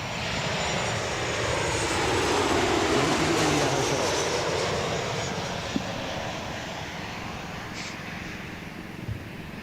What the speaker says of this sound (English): One more plane, Virgin Australia, about to touch down.